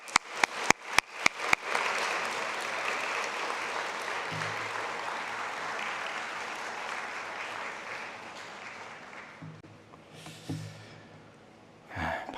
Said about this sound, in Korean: 따뜻한 환영의 박수로 맞이할 수 있도록 하겠습니다